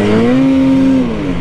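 Snowmobile engine revving hard as the machine pops a wheelie on snow in Utah, a loud steady high whine that sweeps up and then eases off over a second and a half.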